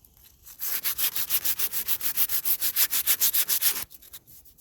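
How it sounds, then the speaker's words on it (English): A wooden boat deck being sanded by hand gives about twenty rapid, even back-and-forth rasping strokes, close and loud, then stops abruptly. "I'm going to get some sanding done."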